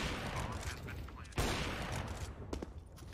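Gunshots ring out in a Counter-Strike: Global Offensive match between Sprout and Heretics, a burst of several sharp cracks with one loud shot near the middle, heard beneath a caster's voice.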